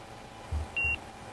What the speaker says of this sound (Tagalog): pag nag-beep siya, wala siyang laman